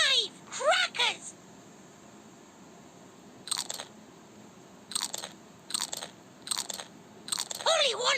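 A cartoon parrot crunches crackers in a Peppa Pig matching game, with several quick, crisp crunching bites spaced through the clip and a high squeaky cartoon voice at the start and end.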